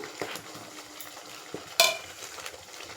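Curry leaves crackle in hot oil, a low sizzle broken by a few soft stirring clicks and one sharp, bright spatter pop partway through, with no voices.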